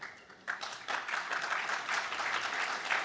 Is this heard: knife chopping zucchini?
no